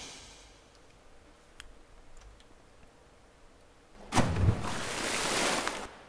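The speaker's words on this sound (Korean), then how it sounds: "물소리 나고." Water sound on a video game's pre-start settings screen: faint ticking at first, then a soft rushing swell like surf that rises near the four-second mark and holds for about two seconds before fading.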